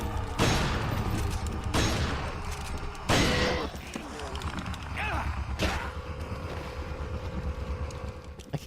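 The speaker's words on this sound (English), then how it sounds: "I can't believe it took like 3 shotgun shots to take that down" Shotgun blasts fired in the survival horror video game Resident Evil 4, several sharp, loud booms spaced a second or more apart over a steady game background rumble.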